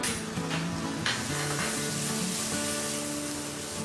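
Ginger garlic paste sautés in melted butter with cumin on a tawa for pav bhaji, a soft, steady sizzle with a faint tonal hum running beneath it.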